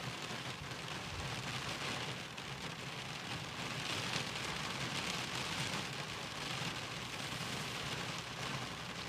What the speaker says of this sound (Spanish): Lluvia de primavera en Bilbao